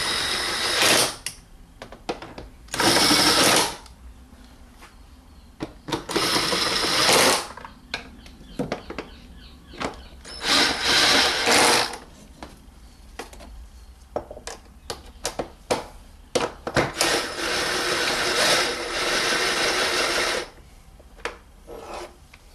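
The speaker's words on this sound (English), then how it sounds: "And then we can tighten the other screws." A power tool runs in repeated short bursts, tightening the screws on the air filter housing of a 2005 Honda CR-V. Loud buzzing whirs with brief pauses and small clicks between them, close by and with no talk.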